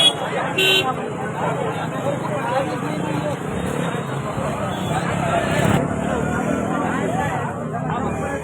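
Roadside traffic jam at a highway junction after a truck brought down a power cable and pole. Car horns toot now and then over steady engine noise and the loud chatter of a gathered crowd.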